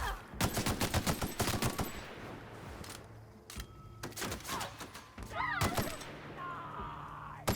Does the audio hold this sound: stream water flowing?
no